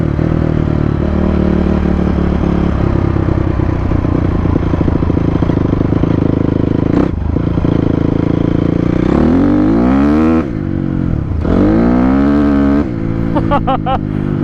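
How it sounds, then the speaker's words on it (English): A Yamaha Raptor ATV tears through burnouts and spin-outs, its engine droning loudly throughout with sharp revving swells near the end, close and continuous with faint voices underneath. "Look at those burnouts, guys. Spin outs, burnouts, whatever you want to call them."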